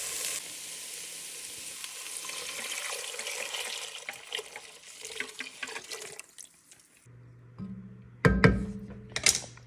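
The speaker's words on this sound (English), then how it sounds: "now we're going to add our chicken broth that I strained and got all the bones and stuff out of" Strained chicken broth pours into a soup pot with a hissing, bubbling splash that thins out, followed by a few clattering knocks and clinks of the pot near the end.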